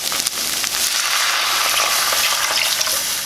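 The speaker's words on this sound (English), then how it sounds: "Now we're going to add our chicken stock." Chicken stock poured into a pot for braising beef shank, a steady broad splashing wash with faint clinks, continuous and fairly loud for a few seconds.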